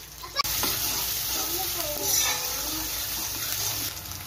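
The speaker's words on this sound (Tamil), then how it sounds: "வெங்காயம், தக்காளி, பூண்டு எல்லாம் நல்லா வதக்கிடுங்க" Onion and garlic sautéing in oil with fenugreek in a pan for a lake fish curry, sizzling steadily up close while being stirred, with scraping spoon strokes, a sharp knock at the start and no talk.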